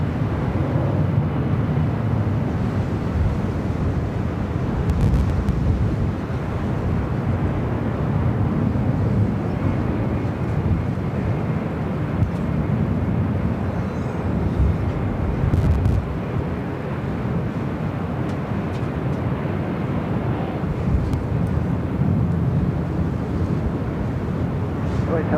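A Boeing 767 rolls down runway 24 Right at LAX, a steady, loud jet roar with deep rumble that holds evenly throughout, mixed with wind buffeting.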